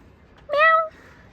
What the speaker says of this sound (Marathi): टंकीच्या मागे मांजर आहे, बघू शकता